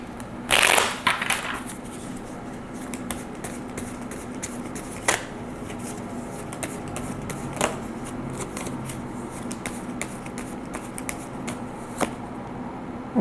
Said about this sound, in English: Let me pull 2 more cards.